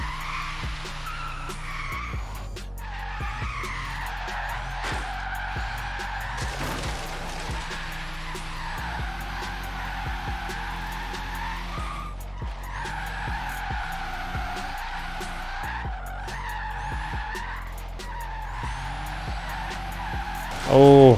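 Tesla drifting in Forza Horizon 3, long sustained tire squeals rising and falling over a steady electric motor whine across repeated slides, ending with a brief louder burst.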